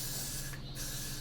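Hairspray sprayed onto a cosplay wig; a close, steady aerosol hiss runs nearly the whole moment with one brief pause in the middle.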